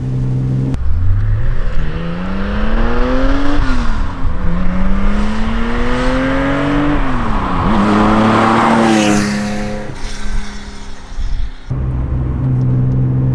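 A classic Porsche 911 with 260 horsepower driven fast on a wet road in northern Scotland, its engine loud and close, revving up and dropping through several gear changes with rising and falling pitch, no talking.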